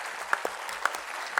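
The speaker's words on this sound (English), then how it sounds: "Please give them a huge round of applause, so loud that they can hear it backstage." Scattered clapping from an audience at a school annual day event, a thin, brief patter with a few sharper individual claps standing out.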